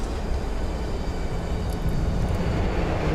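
Steady broadband engine roar of an airliner on its takeoff roll in the Prepar3D v4.1 flight simulator, a constant loud rumble that swells slightly toward the end with no talk over it.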